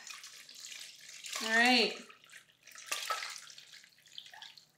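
Tap water running in a sink while a rabbit carcass is rinsed for cooking, a steady close hiss and splash under a brief spoken remark.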